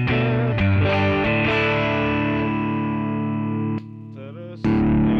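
Electric guitar played through the overdrive channel of an RPM Pedals Last Lie 7-in-1 multi-effect pedal, with loud, saturated sustained chords that ring out, a brief quieter muted gap, then another strummed chord, close and alone.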